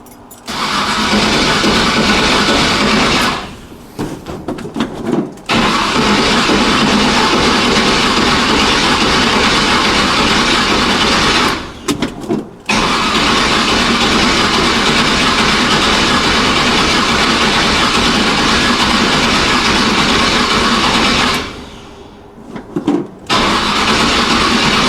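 An old Chevrolet C10 pickup engine cranks and runs loud and close, broken by three brief drops around the fifth, twelfth and twenty-second seconds as it stalls or is restarted, with a steady rumble filling the rest.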